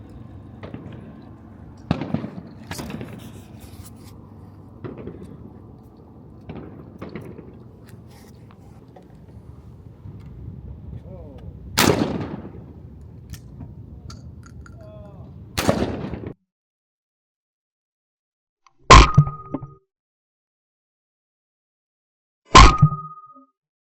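Shotguns fire sharp blasts at a Nevada State trap shooting competition, several distant reports early on, then louder close shots spaced apart with quiet gaps between them.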